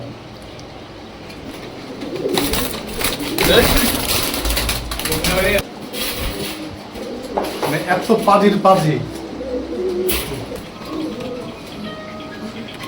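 Pigeons, including Pakistani teddy and red-necked birds at a pigeon house sale, coo in low bursts amid loud nearby talk and occasional clatter, with a busier stretch of calls toward the latter half.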